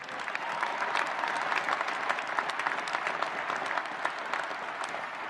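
A large audience at an Air Force Academy graduation ceremony applauds in a dense, steady wash of clapping that holds at an even level throughout, with no voices rising above it.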